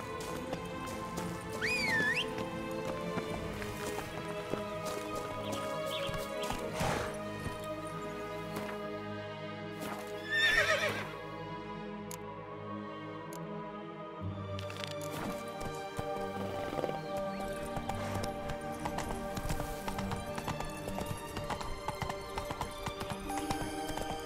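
Hooves clip-clop steadily in The Witcher 3 video game as a horse travels, with a brief neigh partway through, set against continuous in-game music and ambience.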